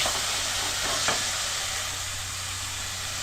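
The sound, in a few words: chicken breast sizzling in pan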